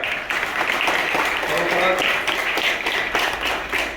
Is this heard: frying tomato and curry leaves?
no